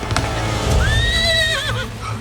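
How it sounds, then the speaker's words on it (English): A horse whinnies once, a rising then wavering neigh lasting about a second, fairly close and clear over a low rumbling background. "where did you get a horse?"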